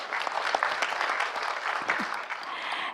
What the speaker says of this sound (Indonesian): Tepuk tangan untuk Pak Kajati.